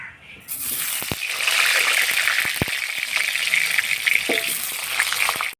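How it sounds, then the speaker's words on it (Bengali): Potatoes frying in hot oil in a wok: a loud, steady, hissing sizzle starts suddenly and carries on, with a few faint clinks. There is no talk. "আমি তাহলে আলুটা ভেজে নিচ্ছি"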